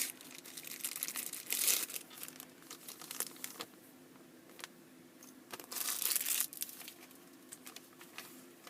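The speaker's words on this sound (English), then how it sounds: "We have here a little plastic bag full of another plastic bag" A small plastic bag holding another plastic bag crinkles and rustles up close in two louder bursts separated by softer handling noises, with no one speaking.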